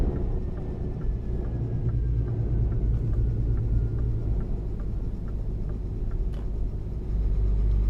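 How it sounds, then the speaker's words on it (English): A heavy truck engine in Euro Truck Simulator 2 rumbles steadily and close, a constant low drone with a faint rhythmic ticking above it, running alone without any speech. "Yeah, got some good engine sounds in American Truck."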